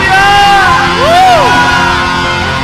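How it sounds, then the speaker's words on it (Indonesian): A church congregation at a Sunday worship service cheers and shouts hallelujah, producing a loud, sustained wall of overlapping raised voices and whoops with no break. "Sorakan haleluya."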